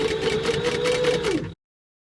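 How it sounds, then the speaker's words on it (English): A sewing machine stitching fabric for a child's book bag, running in a fast, even mechanical chatter with a steady motor whine for about a second and a half before stopping abruptly into silence. "I'm going to start towards the top of my bag, and then you're just going to sew around a 1/4 of an inch."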